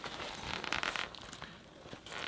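A quick zipper pull on a Bagsprite toiletry bag rasps twice in short bursts, close and fairly quiet, with light fabric scraping in between.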